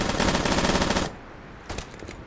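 Sustained automatic gunfire in the Battlefield 2042 video game, a dense loud burst lasting about a second, then a quieter pause broken by a couple of distant shots.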